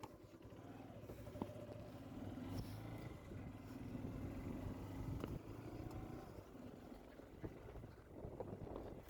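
A motor vehicle engine drones steadily while riding, faint and low, with wind noise brushing over it and no talking.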